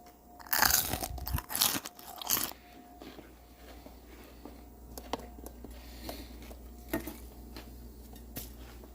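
Loud crunchy bites into crispy fried chicken near the start, a few sharp crackling bursts, followed by quieter chewing and faint clinks of cutlery.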